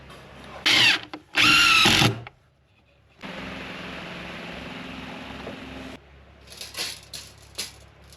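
A power drill drives 5 gauge 60 mm screws into 22 mm OSB sheathing in two short, loud bursts, then runs in one steadier, longer stretch at close range, with no talking.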